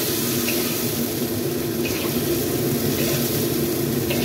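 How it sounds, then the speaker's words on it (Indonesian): Vegetables being stir-fried with sauce in a pan give off a steady, close bubbling sizzle that runs unbroken and fairly loud, with no voices. "Kita tumis lagi"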